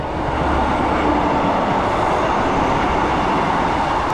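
A train passes along a railway in the English countryside between Exeter and Exmouth, a loud, continuous rumbling roar heard close by from a footpath, with no voices.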